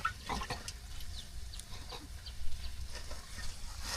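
Boiled potato and green banana pieces are stirred into a fish curry cooking on a clay stove outdoors in a village, with a quiet, steady sizzle and soft scraping close by.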